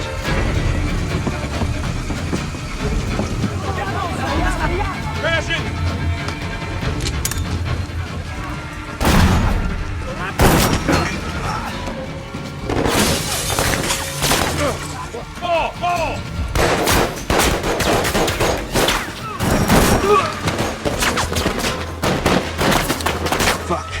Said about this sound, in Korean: 저격수의 총성을 울리며 미친 듯이 총알을 쏟아붓죠